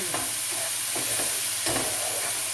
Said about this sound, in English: keep cooking, stirring every so often and caramelising those onions